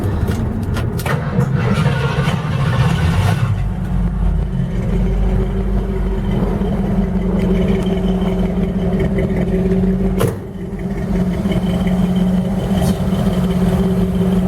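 A rebuilt 351 Windsor V8 engine in a 1962 rat rod idles steadily, a low continuous rumble with a brief dip partway through before settling back to the same loud hum.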